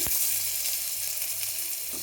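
Steady, bright sizzling of ginger, green chillies and chilli powder frying in hot oil, continuous and close, with a couple of soft clinks from a utensil.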